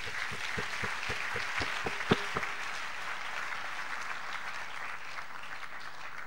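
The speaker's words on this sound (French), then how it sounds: "Est-ce qu'on peut acclamer pour dire merci à Dieu?" A church congregation of an Assemblies of God church applauds continuously to thank God, with steady dense clapping throughout and a few sharper, more distinct claps near the start.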